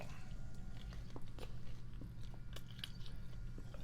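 Close, wet chewing and soft crunching of a dark chocolate s'mores brownie, irregular bites and squishes heard near the mouth with faint breathing and no talk.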